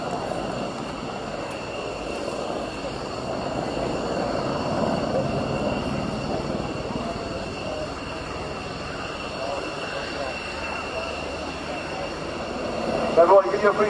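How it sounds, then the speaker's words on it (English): A Merlin Mark II helicopter of 84 Naval Air Squadron makes a final pass at the RNAS Yeovilton air show, a steady broad engine and rotor roar holding throughout, with crowd and wind noise around it. "give your appreciation for the Merlin Mark II of 84 Naval Air Squadron"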